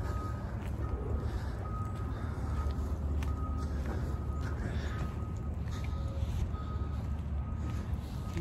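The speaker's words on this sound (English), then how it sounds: "I hear the trucks in the background backing up" Trucks backing up somewhere beyond a forest give off faint, regularly spaced reversing beeps over a steady low rumble of distant traffic and outdoor ambience.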